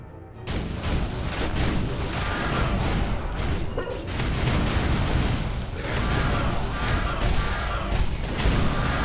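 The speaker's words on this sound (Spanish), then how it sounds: "¿Cuántas explosiones, tío?" Dense, loud chain of explosions and crashing impacts in the video game Skul, booms and bursts piling up continuously for several seconds with whooshing and clattering effects mixed in, and no one talking.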